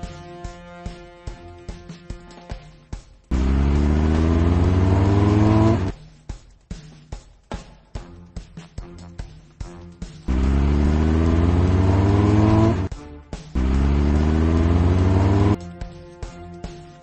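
Cartoon fire trucks in a Blaze and the Monster Machines firefighter rescue game rev their engines in three loud, sustained bursts, separated by short stretches of clicky, choppy game sounds.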